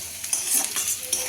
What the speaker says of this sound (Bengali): মাছ রান্না করছে